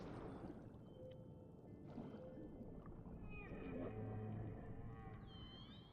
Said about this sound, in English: Is that a whale I hear?